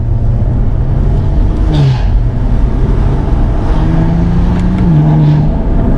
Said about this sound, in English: when you put it in sport and you put it in manual